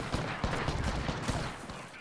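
A gunfire barrage in a video game, a dense rapid string of sharp shots packed closely together and fairly loud across two seconds, with no talking heard.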